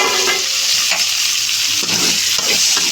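Tomatoes and onions frying in hot oil in a pan: a loud, steady close-up sizzle with faint stirring scrapes mixed in, and no voices.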